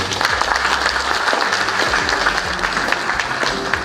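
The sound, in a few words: audience applause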